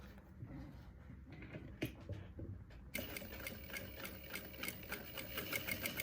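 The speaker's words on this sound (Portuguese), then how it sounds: "Faço uma costurinha." A sewing machine stitches a zipper wallet, a steady mechanical whirring that starts softer and grows louder and busier partway through, running continuously with no talking.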